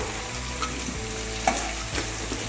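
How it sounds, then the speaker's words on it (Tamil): Onion sautéing with coconut and roasted gram for chicken gravy, a continuous close sizzle of frying with occasional scraping taps of the ladle in the pan, no voices. "இது கூட தேங்காயும் பொட்டுக்களையும் போட்டு ஒரு அஞ்சு நிமிஷம் வதக்கிடலாம்"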